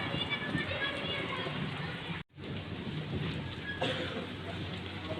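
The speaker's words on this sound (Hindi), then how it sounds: "एक तरफ धूप निकली हुई है और दूसरी तरफ बारिश हो रही है।" Steady heavy rain falling while the sun shines, a dense loud continuous hiss with a brief break midway.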